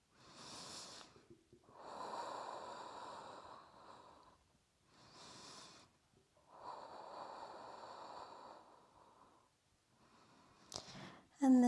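Slow, deep breaths during a morning yoga flow: long airy inhales and exhales in a quiet room, close and soft, with a brief sharper sound at the very end.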